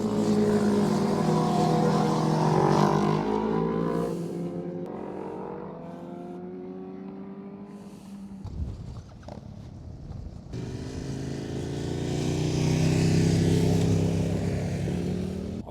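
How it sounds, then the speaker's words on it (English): Motorbikes roar past along a quiet rural UK road near grazing sheep, loud engine notes swelling and fading as several machines pass one after another, with a lull in the middle before another wave builds. "it's like that Isle of Man TT race or something. It's just like like that, motorbikes everywhere"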